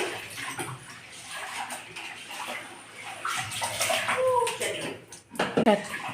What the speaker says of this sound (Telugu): కడిగి వేసుకుందాం మూడు సార్లు అయితే కడిగి వేసుకోవాలి